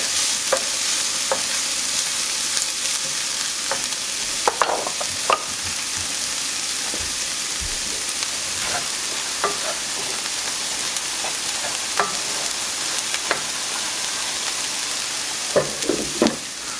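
Garlic and onions sauté in a pan for a chile relleno filling, a loud, even sizzle running throughout, punctuated by repeated clicks and scrapes of a stirring utensil; close-up, with no talking.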